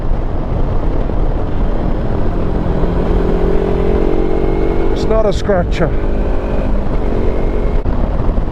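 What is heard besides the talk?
adventure motorcycle engine revving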